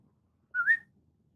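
A single short whistle, a quick rising-and-falling note lasting under half a second, sounds alone against a quiet background with a faint low rumble.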